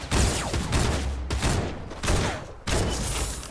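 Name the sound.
new weapon gunfire in the video game Fortnite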